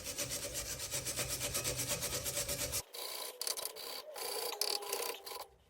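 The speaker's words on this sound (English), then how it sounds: "That's all wire brushed up now." Wire brush scrubbing rust from the brake pad mounting grooves on a Hyundai i10, a steady rapid rasping at first, then short, irregular scratching strokes close up.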